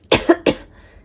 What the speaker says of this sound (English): Still got a cough.